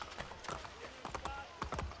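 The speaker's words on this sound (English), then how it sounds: "So I have to call my beautiful horse." A horse's hooves clip-clop in the Assassin's Creed II Brotherhood video game, a quick, even run of close, moderately loud hoofbeats over faint game ambience.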